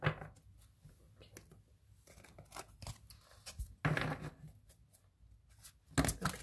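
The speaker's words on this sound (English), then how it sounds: "I gotta shuffle this deck." A deck of fairy oracle cards gets shuffled by hand in bursts of papery riffling and slapping, close up, with quiet pauses between rounds and no talking.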